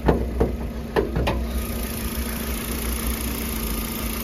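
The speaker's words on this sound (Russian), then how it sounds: "Послушаем на работу двигателя." Under the open hood of a Hyundai Solaris, the G4FA engine idles with an even, steady hum and a light mechanical ticking, heard close up and alone, with a few sharp clicks at the start.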